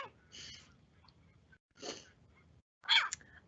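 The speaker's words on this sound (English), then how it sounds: "why don't we take a listen to what this short-eared owl sounds like?" A short-eared owl gives a few short, raspy, meow-like calls, three separate bursts spaced about a second apart, faint against quiet background.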